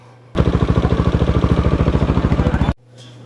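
A motorcycle engine runs steadily at idle close by, a rapid even chugging pulse that holds for about two seconds and then cuts off abruptly, leaving faint background hum.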